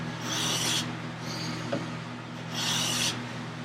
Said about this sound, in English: This planing really nice right now.